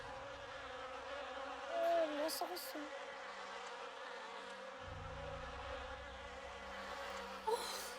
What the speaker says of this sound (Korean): 윙. 귀를 어지럽게 하는 소리들.